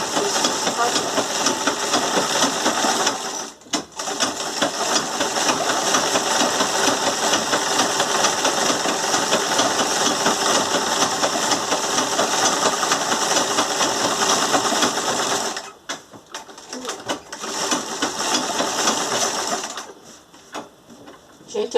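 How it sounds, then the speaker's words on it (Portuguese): An old sewing machine runs straight stitching through fabric in a steady, fast mechanical chatter that holds for about fifteen seconds, stops briefly, then resumes for a short burst. "Eu gosto muito de costurar essa máquina aqui."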